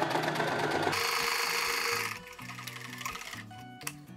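Sewing machine backstitching a seam on a skirt, a close rapid mechanical rattle for about two seconds that then drops to a softer, slower run and handling noise.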